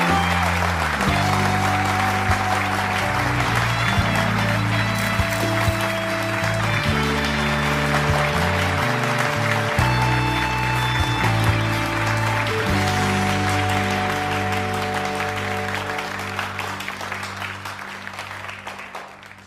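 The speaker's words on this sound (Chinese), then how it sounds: "掌声有请龙少雄先生" An audience applauds at a business event as a man is introduced to launch a phone. The clapping is sustained and broad, mixed with steady background music, and fades slightly toward the end.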